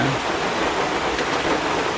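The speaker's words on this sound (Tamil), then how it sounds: "மழை பெய்யுது பாருங்க" Steady rain falls in a garden during a thunderstorm while bee boxes are being moved, a dense, even hiss that stays constant and fairly loud throughout.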